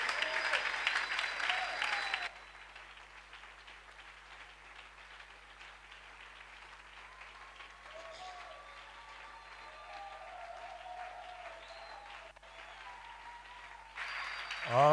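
Congregation at a Sunday church service applauding and cheering loudly for the Lord, a dense burst of clapping at the start that settles into a quieter sustained crowd murmur, then swells again at the end.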